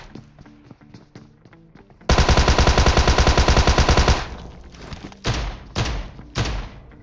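A Tommy gun in a video game fires a long, rapid burst of close, loud shots, followed by several shorter bursts, with quieter clicks and taps before it.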